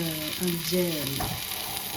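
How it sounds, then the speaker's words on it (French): A home kitchen coffee maker runs loudly, a steady hissing, sizzling rush with a few brief tonal whines over the top. "la cafetière fait un bruit d'enfer"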